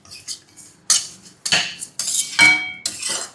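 A spoon scrapes and clinks against a pan as upma premix is stirred over a gas flame, in a run of short, sharp metallic strokes with brief pauses between them.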